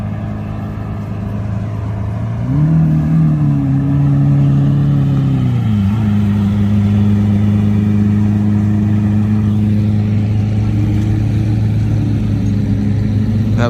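A Lamborghini Aventador SV's V12 engine rises in pitch as it revs after about two seconds, then holds a loud, steady drone close by at a rally event at a racing school track, with no talk.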